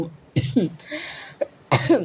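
Two or three short, harsh coughs in quick succession, close to the microphone, with brief pauses between them.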